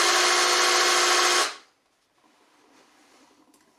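A loud, steady whine of a power tool running for about a second and a half, then it cuts off, leaving a quiet room with faint background noise.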